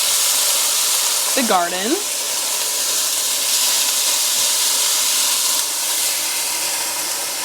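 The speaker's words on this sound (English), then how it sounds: "Caramelizing onions takes a good amount of olive oil. And then I'm gonna throw in my onions." Onions tossed into a hot pan of olive oil for caramelizing give a steady, close frying sizzle and hiss that runs throughout, with a brief voice and a whistling tone near the start.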